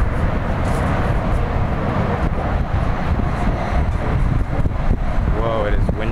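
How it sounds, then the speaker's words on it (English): Strong wind buffets the microphone with a constant low roar on the Memphis Pyramid's high observation deck in Memphis, Tennessee, while a voice speaks briefly near the end. "Whoa, it is windy out here."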